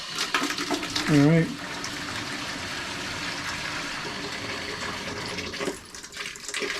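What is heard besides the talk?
water released when relieving water heater pressure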